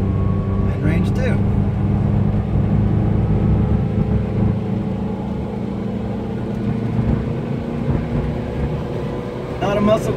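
A 1977 Honda Civic CVCC hatchback engine drones at highway speed while driving, a steady low rumble with road noise throughout, heard from inside the cabin.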